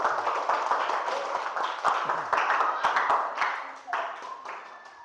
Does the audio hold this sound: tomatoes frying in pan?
no